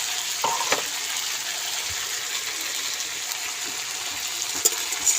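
Fish curry being sautéed dry in a pan, a steady close sizzle with faint scrapes of stirring and a few sharper clicks of the spoon against the pan.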